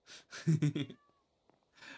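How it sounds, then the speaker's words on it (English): A cat in a video game build tour with RTX gives a few short, close meows in quick succession, followed by a quiet gap and some soft breathy noise. "And a cat."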